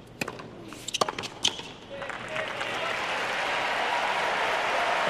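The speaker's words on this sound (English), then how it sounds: "You can hear the crowd. They're getting behind the youngster." A tennis crowd at the US Open first claps in scattered bursts, then swells into a broad steady wave of applause and cheering that fills the stadium, with commentary voices underneath.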